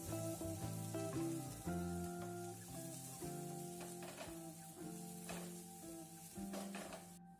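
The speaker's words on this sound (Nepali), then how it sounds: "हल्का लसुन फ्राई गरेपछि त्यसमा मैले अब प्याज राख्छु। त्यसपछि सँगसँगै खुर्सानी पनि राखिदिन्छु।" Garlic, onion and green chili sizzle steadily in hot oil in a pan for Nepali daal tadka, a close, continuous frying crackle with occasional stirring clinks and sputters.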